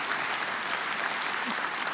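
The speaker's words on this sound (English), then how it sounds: "Applause." Steady applause fills a conference hall during a Ukraine recovery conference in Gdansk, a dense, even wash of clapping from a large audience throughout.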